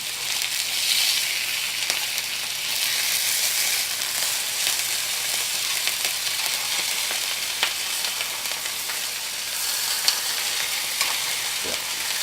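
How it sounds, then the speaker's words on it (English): Steaks for beef Wellington searing in a hot pan: a loud, steady hiss of sizzling fat that holds even throughout, close up, with faint occasional pops and no voices. "we're gonna start off with searing the steaks"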